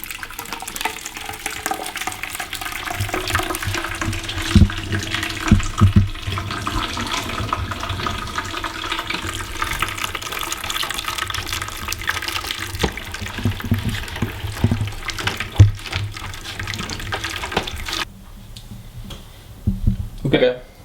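Wort drawn from a rye IPA mash splashes and trickles as it is poured back over the grain bed in a homebrew setup, a steady wet pouring sound with clinks, then it stops near the end.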